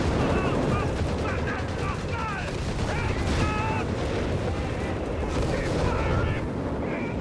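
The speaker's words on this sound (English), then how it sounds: "Another dive bomb attack here on the howitzer." Dense, loud artillery barrages and bomb explosions fill a Company of Heroes 3 battle, a continuous roar of booms and gunfire with a commentator talking over it.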